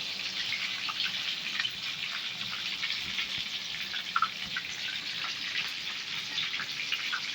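Chicken fry pieces being lifted out of hot frying oil, giving a steady, even sizzle with faint crackles and pops, close and moderately loud, with no talking.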